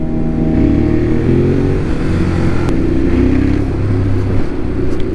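A new motorcycle's engine hums steadily while being ridden, with a continuous mid-low drone and shifting tones that suggest changing revs, loud and close throughout with wind noise over it.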